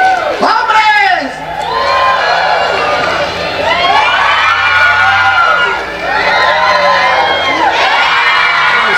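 A live crowd at an audience contest pitting men against women cheers, whoops and shouts loudly and continuously, with children's voices mixed in and two brief dips in the roar.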